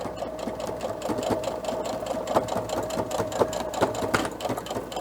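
A sewing machine runs steadily, stitching the side seams of a fabric face mask with a pocket and nose piece, giving a close, rapid, even mechanical chatter throughout.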